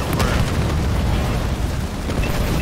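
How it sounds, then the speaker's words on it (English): A building explodes and is destroyed during a Halo Wars 2 battle, giving a loud, dense rumbling blast with crackling debris and further booms layered over continuous battle noise. "The enemy has destroyed one of our buildings."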